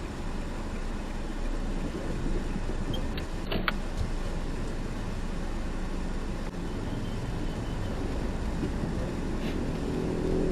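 A car rolls past on the road, a steady broad whoosh of engine and tyre noise that stays fairly even and close for the whole stretch, with no one talking.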